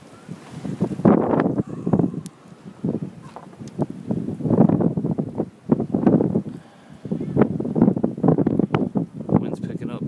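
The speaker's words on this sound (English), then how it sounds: "Wind's picking up." Strong blustery wind in a Rhode Island winter blizzard buffets the microphone in loud, uneven gusts that rise and fall throughout.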